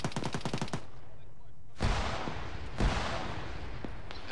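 A video game firefight opens with a rapid burst of automatic gunfire, then after a short lull two heavy booming blasts hit, one loud and close, followed by a fainter shot.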